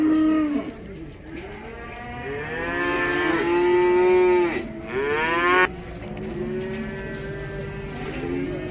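Young male suckling calves at the Taraz livestock market give several long, loud, close moos in succession, some overlapping, over a low background hum.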